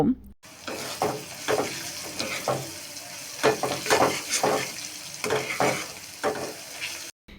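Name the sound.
stirring onions, chilies and turmeric frying in a pan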